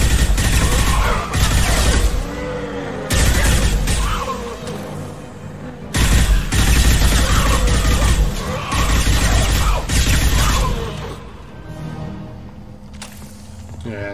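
Weapon fire from the video game Mass Effect 2, dense loud bursts of shots and booms in repeated volleys with short lulls between them, continuing for several seconds.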